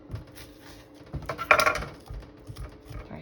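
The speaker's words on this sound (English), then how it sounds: "I'm just doing a wee zoom in on a blue hand chopping something" Food is chopped in a home kitchen with irregular knife taps on a board, topped by one brighter clatter in the middle, and there is no talk.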